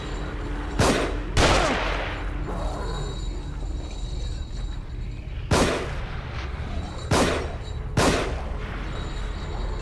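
Gunshots in The Evil Within, four or five loud, close booming shots spaced a couple of seconds apart over a rumbling game background.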